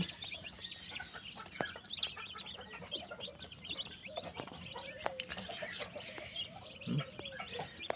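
Soft cheeping of young tiger chicken chicks at a hatchery mixes with scattered clucks and chirps, a busy, fairly quiet chorus continuing throughout.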